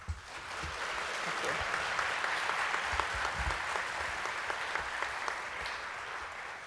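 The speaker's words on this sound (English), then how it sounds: "And applause, please." Audience applause at a summer college commencement ceremony, a steady sustained clapping from a large crowd that holds for several seconds at a moderate level, with a few louder claps standing out near the start.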